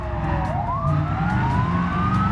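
Police sirens in the BeamNG driving game wail with rising and falling pitch over a dense rumble of car engine and road noise, loud and continuous, with no talking.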